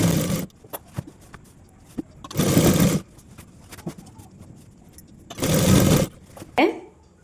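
Sewing machine stitching a nightie during an alteration, three loud whirring bursts of stitching separated by pauses with quieter handling clicks in between.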